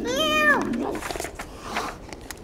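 A child imitates a cat's meow with the voice: one loud, drawn-out meow at the start that slides downward, followed by quieter talking and faint sounds.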